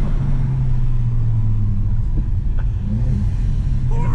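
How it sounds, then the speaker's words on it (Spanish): A modified Audi A3 engine drones and revs under steady road rumble, with a brief whooshing blow-off valve release as the throttle lifts. "Es eso que suena la válvula de alivio"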